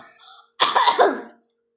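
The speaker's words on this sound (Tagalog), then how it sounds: "May ubo pa din siya, guys." A single short, rough cough bursts out after a brief quiet, faint sound, then fades quickly into silence, close and alone, in a setting where toys are being rated.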